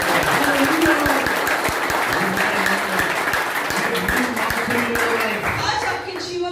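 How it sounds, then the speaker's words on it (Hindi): A church congregation claps loudly in thanks during a worship service, a dense, sustained wash of applause from many hands filling the whole stretch, with voices and music faintly mixed underneath. "है कोई प्रभु के लिए जोर से ताली बजा के धन्यवाद दे सकता है?"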